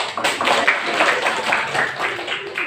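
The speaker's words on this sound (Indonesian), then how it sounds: "Tepuk tangan." Classroom applause from a Grade 10 economics class, a dense patter of many hands clapping together, steady and fairly close for a few seconds.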